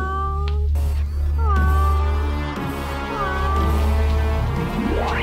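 A cat meows several times, clear rising and falling cries over a steady low background hum and music-like drone, fairly close and prominent throughout.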